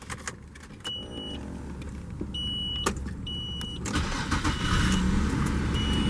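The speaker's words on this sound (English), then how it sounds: "You can hear if the vehicle starts up great." A few electronic chime beeps sound inside a 1999 Infiniti I30, then its engine cranks and starts, settling into a steady idle.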